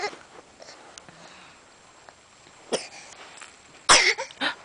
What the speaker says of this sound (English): Oh, you have a cough.